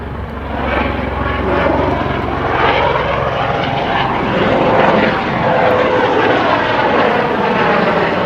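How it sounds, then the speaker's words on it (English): Aircraft circle near mountain slope fires at Bainskloof Pass, a steady, loud engine and rotor drone holding throughout with no talk. "There's lots of helicopters flying around."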